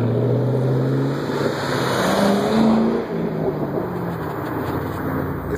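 Several Ford Mustangs from a club cruise rumble along a country road in Lancaster County, Pennsylvania, on an October drive, their engines steady and close with a few passing and revving, sounding continuously with no talk.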